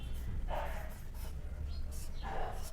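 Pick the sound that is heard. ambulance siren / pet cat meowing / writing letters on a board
writing letters on a board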